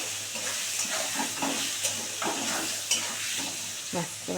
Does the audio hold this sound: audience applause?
no